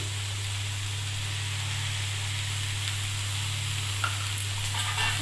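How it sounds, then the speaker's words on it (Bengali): Potatoes and ivy gourd frying in a pan, a steady broadband sizzle over a constant low electrical hum, with a faint clink near the end and no talking. "এবার আলু কুঁদরি ভালো করে ভেজে নেব"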